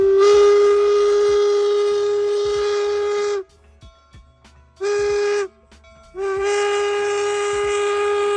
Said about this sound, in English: they have a working 1880s train replica